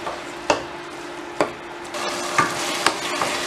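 Crab stew with tomato, ginger and onion is being stirred in a pot, giving several distinct scraping knocks of a spoon against the pot at an uneven pace over a faint steady simmer.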